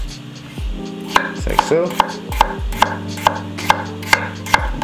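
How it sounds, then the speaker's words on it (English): A knife chops potatoes on a cutting board for mashed potatoes, striking in a steady rhythm of about ten sharp close knocks, with a brief spoken remark partway through. "Just keep cutting, don't cut yourself."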